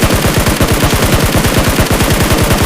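Sustained automatic gunfire from a shooting video game, a rapid steady stream of close, loud shots repeating evenly throughout with no pauses and no talking.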